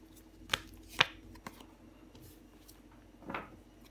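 Tarot cards are handled and laid down on a table during a reading: two sharp flicks and snaps close together, then a faint tap and a softer sliding shuffle, heard alone in a quiet room.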